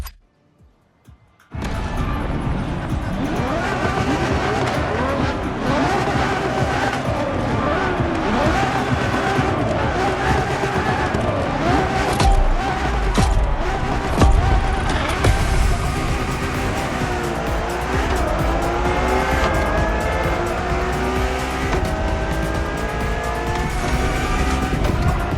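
A Ferrari Enzo supercar in the racing game The Crew Motorfest, engine roaring loud and sustained with revving pitch shifts and tire squeal, starting abruptly after a brief silence and continuing without a break.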